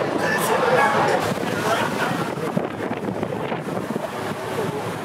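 Steady wind roars across the microphone while a boat moves over water off Maui, with voices faintly talking beneath the gusty rush.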